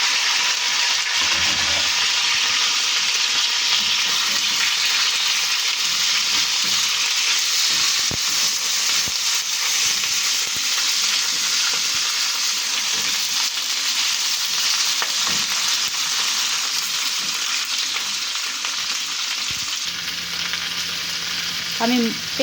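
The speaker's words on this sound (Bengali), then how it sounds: "আমি এখন এই ক্যাপসিকাম মরিচগুলোকেও ভেজে নিচ্ছি হালকা করে।" Carrots and capsicum peppers fry in hot oil, giving a steady, close, continuous sizzle with faint stirring scrapes throughout and no talk.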